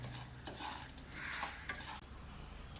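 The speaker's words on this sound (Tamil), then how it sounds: "இந்த மாவை நல்லா கலந்துக்கலாங்க" A flour mixture for Tirunelveli-style fruit halwa with dates and figs is stirred in a pot, giving steady scraping and swishing with a few sharp utensil clinks against the metal, close and continuous, with no talking.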